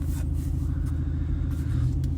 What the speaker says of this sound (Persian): این ماشین خودم همون شویه از شوی تاهو